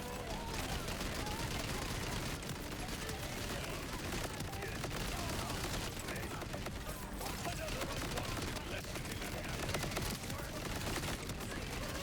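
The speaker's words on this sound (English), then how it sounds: "Just straight explosions everywhere." Continuous barrage of rapid gunfire and rocket launcher explosions in Borderlands 4, dense and loud throughout with no pauses, like a chaotic game battle.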